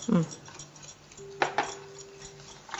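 Oats pancake batter with vanilla essence being stirred in a bowl, heard as a few quiet spoon clinks and taps against the dish amid a low, near-silent background.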